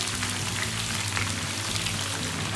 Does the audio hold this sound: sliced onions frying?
yes